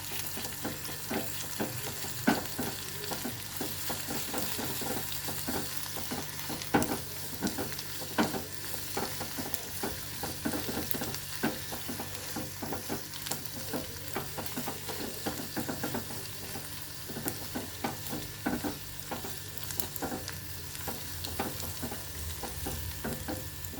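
Ginger garlic paste frying in a pan with a spoonful added for a prawn and gongura curry, giving a steady close sizzle with frequent stirring clicks and scrapes throughout, no voices.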